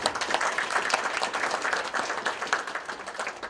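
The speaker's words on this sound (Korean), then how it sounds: "우리 박상준 전 상임대표님 큰 박수 부탁드리겠습니다" An audience at a May 18 Gwangju Democratization Movement commemoration applauds former standing representative Park Sang-jun, with dense, steady clapping from a sizable crowd filling the whole stretch at an even, sustained level.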